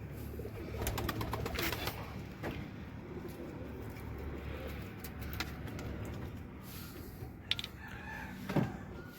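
Domestic Bombay pigeons in a coop coo and rustle softly, with faint bird calls and a brief louder coo near the end, over quiet background noise and no speech.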